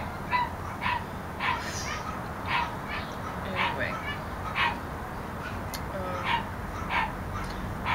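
A male dog whimpers and lets out short, yippy barks in a steady, repeating rhythm of high whines close by, while a person talks in the background.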